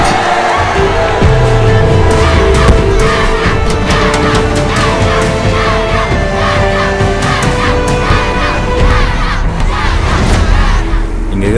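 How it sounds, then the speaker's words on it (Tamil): A dense crowd roaring loudly and continuously, a thick wall of many voices with shouts rising over it throughout. "மொத்த கூட்டத்தோட சத்தம்"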